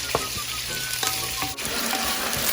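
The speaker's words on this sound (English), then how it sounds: "tablespoon of oil and 1/2 onion slice, and stir it, and then add the garlic" Four cloves of garlic frying in oil with onion, stirred in a pan for fish soup, a continuous loud sizzle broken by several scraping stirs, up close with no talk.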